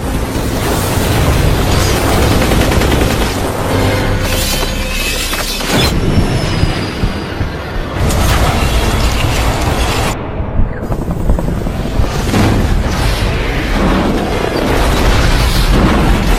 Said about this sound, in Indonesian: terus melaju kencang menghindari hujan tembakan Zero dari atas helikopternya